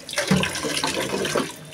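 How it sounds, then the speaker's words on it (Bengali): Tap water runs in a kitchen while rice is washed, a short burst of splashing and gurgling swirling in a pot or bowl, close and moderately loud with no voices. "এই তো ভাতের চালটা ধুয়ে নিতেছি"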